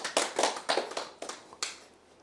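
A church congregation breaks into applause, a burst of hand claps swelling and fading in several waves over about two seconds, fairly close and with no talk over it.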